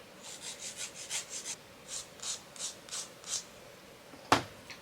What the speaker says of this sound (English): I file them like this, like file the whole nail itself